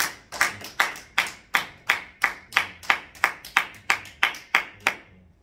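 A church congregation claps together in a steady, even rhythm, about fourteen sharp claps in a row, loud and near, with no voices over them.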